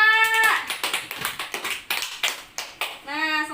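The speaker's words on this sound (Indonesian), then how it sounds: "Nah, tepuk tangan buat Arfa." A fourth-grade elementary class claps for a classmate, a run of sharp, patterned hand claps in quick bursts, with a voice speaking briefly at the start and end.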